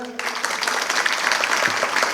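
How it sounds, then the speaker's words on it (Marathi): An audience applauds after a lecture on Ahilyabai Holkar at a commemorative event, a steady, dense burst of clapping from a crowded hall heard at moderate distance after a brief voice at the start. "सरांच्यासाठी एक जोरदार टाळ्या होऊ द्यात."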